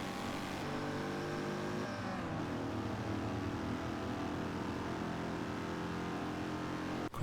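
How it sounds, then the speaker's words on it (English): A Citroen DS 23 held at full throttle on a test track, its engine a steady, unbroken drone that stays at one loud level to the end. "And it's just full throttle till the end now."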